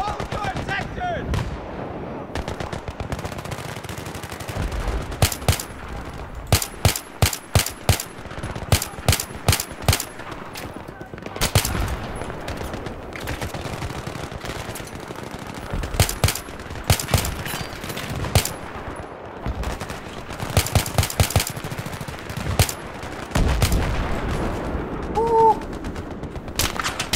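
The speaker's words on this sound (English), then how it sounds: "Everybody's shooting everywhere." Machine gun fire in the video game Battlefield 3, with repeated bursts and scattered shots from several weapons across a battlefield, some loud and close, others farther off, and occasional voices in between.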